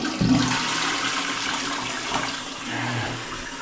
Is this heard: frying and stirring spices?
no